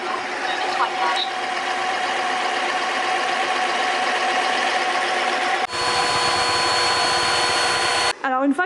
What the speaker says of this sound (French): maintenant ce qu'il faut surtout faire c'est lancer le nettoyage automatique juste là